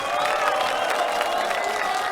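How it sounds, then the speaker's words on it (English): A large crowd at a CS:GO LAN finals event applauds and cheers for the Argentinian team, a dense, steady wash of clapping and cheering with no break. "Big round of applause for the Argentinians."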